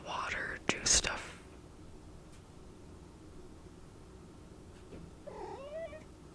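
A cat lets out a couple of short meows, the first loud and close, then a softer meow a few seconds later amid quiet room noise.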